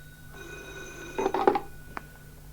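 An old telephone bell rings once in a short burst with a sharp metallic trill, as in a radio drama, above a faint background hum.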